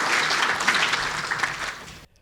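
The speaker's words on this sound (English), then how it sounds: "Let's give Greg a round of applause." Audience at a bridge preservation presentation applauding, loud dense clapping throughout that cuts off abruptly at the end.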